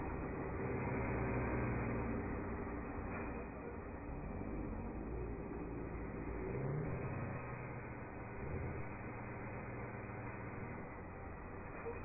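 A Kenworth W900 truck engine in American Truck Simulator, a steady, loud, low rumbling drone with slight swells as it revs, continuous and alone.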